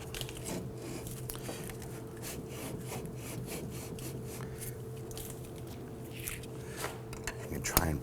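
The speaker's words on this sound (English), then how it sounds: "With the nut removed, we should be able to go ahead and grab our brake drum." Rear brake drum on a 2008-2011 Ford Focus being worked off by hand, giving faint, repeated scraping and rubbing of metal, with a low steady hum underneath and a small knock near the end.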